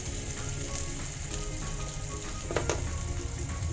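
Seven or eight finely peeled garlic cloves cooking in butter for a vegetable soup, giving a steady, faint crackling sizzle with a few brighter pops, no voices present.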